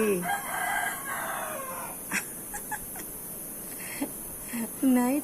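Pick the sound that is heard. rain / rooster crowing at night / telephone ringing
rooster crowing at night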